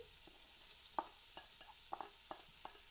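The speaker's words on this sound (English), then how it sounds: "so now we are going to add the onion" Chopped onion drops into browned, hazelnut-colored butter in a pan and sizzles faintly, with scattered small pops and crackles over a low, steady hiss.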